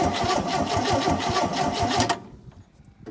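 A 1971 Chevy C10 that has sat unused for years cranks over with a fast, steady mechanical chugging from the starter and engine, loud and close, then cuts off abruptly into quiet.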